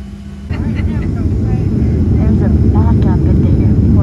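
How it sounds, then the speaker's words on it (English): Airliner cabin on the tarmac before takeoff, a steady engine and ventilation roar that swells loudly after a brief quieter start, with faint voices murmuring beneath it. "Okay, I'm on the plane and we are gonna leave probably in about 15 minutes."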